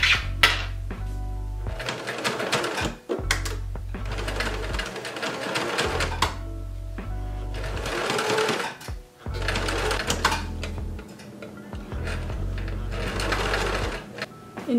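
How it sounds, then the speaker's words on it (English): Sewing machine stitching a panel close to the edge onto a handmade art-school jacket, running in steady rapid bursts of a few seconds each with brief pauses between, close and fairly loud. "I've pinned this on top and I'm just gonna sew as close as I can"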